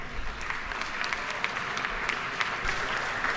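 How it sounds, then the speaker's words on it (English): Applause fills a state capitol chamber during a legislative session, a steady wash of many hands clapping from the floor and gallery, held at an even level throughout without any talk over it. "If we can give them a round of applause and welcome to the state capitol."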